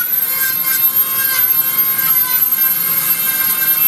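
Dremel rotary tool carving a wood spirit wizard figure from wood, a continuous high whirring grind with slight wavering as the bit bites, close and loud, no speech.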